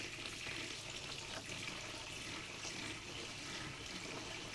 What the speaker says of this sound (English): I'm going to go and pour our vinegar in.